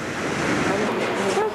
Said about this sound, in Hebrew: וואו, תראי כמה גלים הוא עולה.